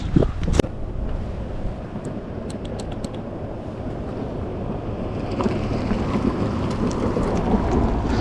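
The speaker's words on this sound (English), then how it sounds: "It's a little bit windy as you can see" Wind blowing outdoors during a folding electric bike test ride, a steady loud low rumble buffeting the microphone throughout with a sharp click near the start.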